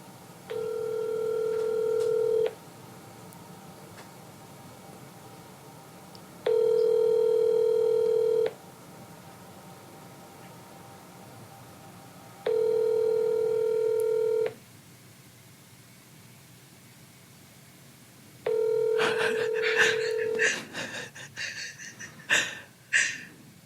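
Ringback tone of an outgoing phone call to a Sprint phone, four evenly spaced rings each about two seconds long with pauses between, clear and steady, followed by a brief burst of clicks and noise as the line connects.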